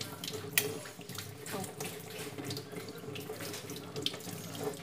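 Tap water runs steadily into a sink while a whole free-range chicken is scraped clean under the stream with a knife; a continuous close splashing fills the clip with small clinks, and no one speaks.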